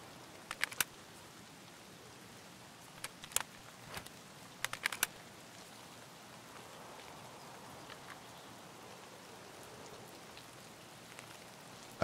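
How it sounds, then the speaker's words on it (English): Quiet, steady rain patter in the video game SP Tarkov fills the background, with a few sharp clicks or taps breaking through now and then. "I just hear the rain and stuff."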